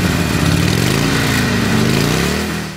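Harley-Davidson Sportster 883 Superlow, a 2011 model, with its air-cooled V-twin engine running steadily and loud at close range, a deep throbbing drone with a slight rise and fall in pitch, fading a little at the end.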